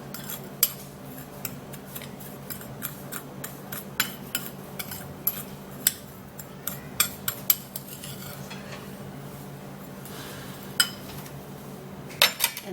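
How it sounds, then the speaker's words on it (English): A utensil mixes baking soda, vaseline and sugar in a dish, giving faint, irregular clinks and taps against the dish with quiet scraping between them, close and alone. "Okay, so I'm gonna be mixing this all up."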